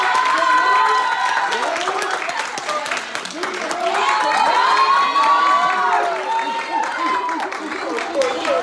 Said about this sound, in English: I just want to give a round of applause to them first and foremost.